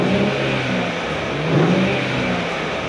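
Twin-turbo V6 of a new Nissan Z revved while parked, a steady mid-pitched engine roar swelling slightly around the middle, close by and loud with no talk.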